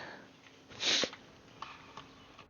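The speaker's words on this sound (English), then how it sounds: "Sorry about the sniffles" A single short sniffle up close, a quick breathy intake through the nose, followed by a few faint clicks and quiet room noise.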